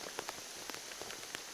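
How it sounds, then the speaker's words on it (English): Rain falls outdoors in the Alberta woods, a faint, steady patter with scattered sharper drops hitting nearby surfaces. "Well, we're getting some rain."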